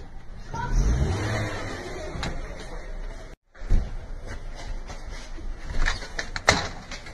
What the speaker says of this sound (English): Look, Dan, your wheels are not spinning anywhere.